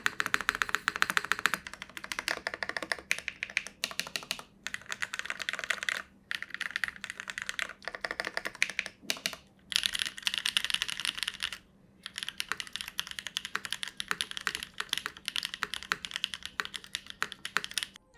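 Rapid typing on a Neo80 mechanical keyboard fitted with Neo switches, a dense close-up stream of clacky keystrokes with brief pauses between bursts, moderately quiet and with no talking.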